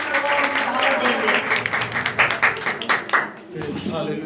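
Congregation clapping in a church service, sharp individual claps rising into rhythmic applause that fades out near the end, with a voice speaking over it.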